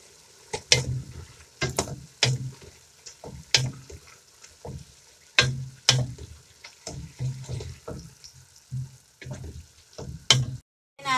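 Chinese cabbage is stirred into lomi noodles in a pan, with irregular scraping and clattering strokes of the utensil over a light sizzle, loud and close in bursts separated by short pauses.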